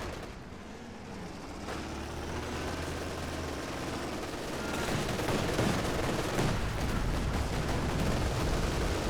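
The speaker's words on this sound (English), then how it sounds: "we've got a machine gun bunker covering the center" Sustained automatic fire from a machine gun bunker in Company of Heroes 2 rolls on continuously through a 2v2 battle, growing denser and louder in the second half, without speech.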